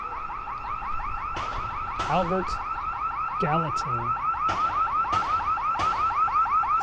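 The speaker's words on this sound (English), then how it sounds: "we've heard that alarm before on the other side of the OEOB" Car alarm cycling loudly through repeated warbling and chirping tones, steady and prominent outdoors near the Old Executive Office Building, with a brief spoken phrase over it.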